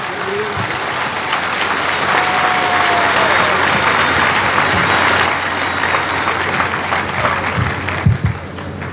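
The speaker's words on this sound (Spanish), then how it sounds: "Recibámoslo con un fuerte aplauso." A loud, sustained round of audience applause greets the bishop of Cuernavaca at a Eucharist gathering, many hands clapping evenly before tapering slightly near the end, with a few louder close claps.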